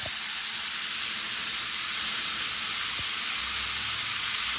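Steady, loud sizzling of chicken wings frying in hot oil, a constant hiss throughout with a soft clunk partway through.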